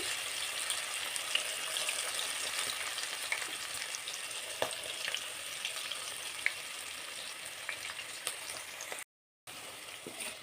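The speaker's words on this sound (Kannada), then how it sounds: "ಒಂದು ಸೆವೆನ್ ಮಿನಿಟ್ಸ್ ಫ್ರೈ ಮಾಡಿಕೊಂಡ್ರೆ ಭೇಂಡಿ ಫ್ರೈ ರೆಡಿಯಾಗುತ್ತೆ" Thick-cut okra (bhindi) slices fry in oil in a pan over a medium gas flame, giving a steady close sizzle with occasional stirring clicks, broken by a brief dropout near the end.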